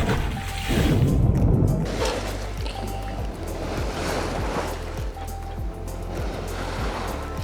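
A sailboat, Our Dreamtime, under sail across to Cape Gloucester, heard from the bow: a loud whoosh of water rushing along the hull, then rhythmic slaps and splashes of waves against the boat, with steady wind noise throughout.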